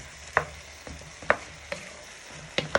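Spoon or spatula scraping across the bottom of a pan of beef goulash to lift stuck-on smoked paprika, giving a few sharp scrapes spaced through a quiet background.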